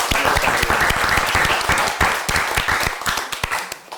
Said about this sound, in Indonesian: Kita berikan aplaus dulu buat